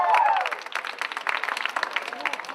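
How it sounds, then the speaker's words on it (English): An audience at an alumni meet breaks into dense, steady applause that carries at an even level for the whole stretch, with a brief voice rising over it at the start. "I want a huge round of applause if I am right."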